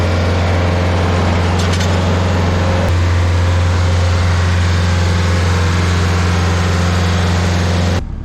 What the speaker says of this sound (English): Let me grind this stump and I'll fix that when I get back to the shop.